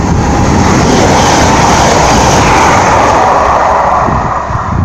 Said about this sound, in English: Next train pass by is Plymouth Edinburgh service,